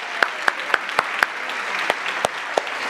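Audience applause at a short film competition award ceremony: a steady crowd clapping bed, with one nearby pair of hands striking loud, evenly spaced claps over it.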